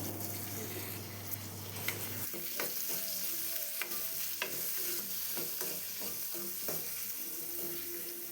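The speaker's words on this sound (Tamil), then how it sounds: "இதை சேர்த்து நல்லா வதக்கி விடுவோம்." Steady sizzling of onion sautéing in a pan with repeated scraping and stirring clatter, close up, no voices.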